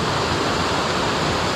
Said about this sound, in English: Have a swim, little waterfall there.